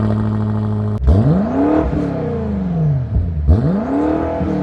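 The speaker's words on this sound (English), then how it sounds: "Speaking of the exhaust, particularly when you're under load and on overrun, this V8 sounds incredible." BMW M8 Competition Gran Coupe V8 engine revving loudly and close, with two rising-and-falling sweeps of exhaust roar, a sharp crackle at the start of the first and burbling on overrun between the pulls.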